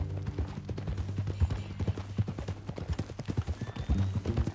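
Horse hooves clip-clopping in the Red Dead Redemption 2 video game: a steady, fairly quiet run of close hoof clops with no voices.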